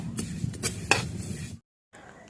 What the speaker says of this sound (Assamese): তিলখিনি ভাজি থাকোতে লৰাই থাকিব লাগিব